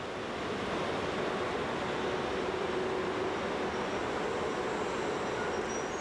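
An ÖBB class 1041 electric locomotive hauls a train, a steady rushing rumble of wheels and wind that holds evenly throughout, with no voices.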